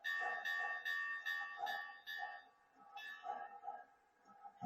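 A small brass bell on an HO-scale Southern Pacific GS Class model steam locomotive clangs in a steady repeating rhythm, ringing several times, pausing, then sounding a few more strikes, fairly quiet and close.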